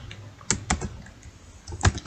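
Keystrokes on a computer keyboard while entering program code, a few separate clicks and taps spaced irregularly, moderately close and fairly quiet, with no voices.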